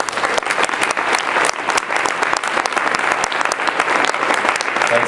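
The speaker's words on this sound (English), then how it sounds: "So a huge round of applause for them." Dense, sustained applause from a conference keynote audience at a 2012 organic farming winter conference, loud and continuous for the whole stretch with no speech over it.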